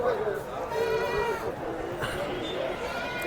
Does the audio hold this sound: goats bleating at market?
yes